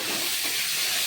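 Kochur loti (taro stolons) frying with dried fish, salt and turmeric in a pan, giving a loud, dense, continuous sizzling hiss close up, with no talking.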